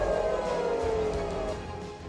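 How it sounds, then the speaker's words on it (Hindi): A missile-attack air raid siren in central Israel wails steadily and loudly, its tone holding and then slowly falling away toward the end, with no voices. "मध्य इजरायल में कल पूरी रात मिसाइल हमले के सायरन बजते रहे।"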